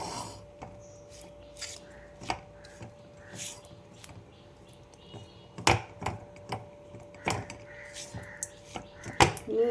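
Grated coconut is worked together with liquid date palm jaggery for patishapta filling, heard as soft, irregular scraping and rubbing knocks against a bowl, close and quiet with intermittent sharper ticks.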